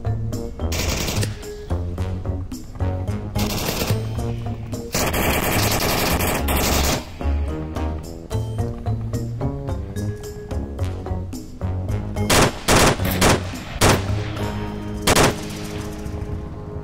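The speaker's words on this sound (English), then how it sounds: "nice shooting!" Dense automatic gunfire and rapid shots from Onward VR on the Bazaar map, loud and continuous bursts of machine-gun fire with sharp single cracks mixed in, no talking.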